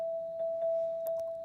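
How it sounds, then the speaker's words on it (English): A single high celesta note played in Pro Tools, a bright bell-like tone sustained evenly and repeated in a soft rhythmic pattern, with faint chiming overtones and nothing else heard. "So the celesta sounds like this."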